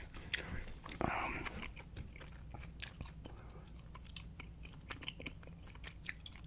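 Gum chewed right at the microphone gives soft, wet smacks and small clicks in an uneven rhythm, quiet and intimate with low background hiss.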